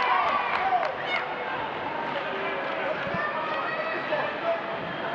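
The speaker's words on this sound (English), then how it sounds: "Still good support from this Mexican crowd." A Mexican crowd cheers steadily at the 2014 WTF World Cup Taekwondo Team Championships women's final in Querétaro, Mexico, Korea against Côte d'Ivoire: a dense, continuous wash of arena noise that holds at an even level throughout.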